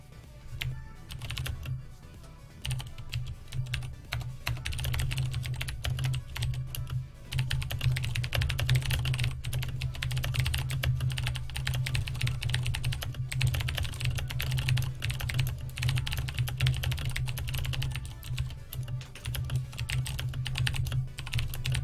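Fast, continuous clatter of keys on a computer keyboard during a live PC build stream, steady and close for a long stretch with no talking.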